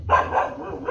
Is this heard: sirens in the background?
no